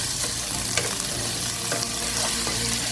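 Mutton liver with chopped tomato and green chilli stirred on a hot tawa, a steady close sizzle running throughout with a few sharp scraping strokes from the spatula. No talking.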